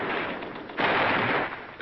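Heavy, sustained machine gun fire in a World War II battle on Tarawa, dense rapid bursts that swell louder partway through and roar continuously at close range, recorded with a muffled, band-limited archival quality.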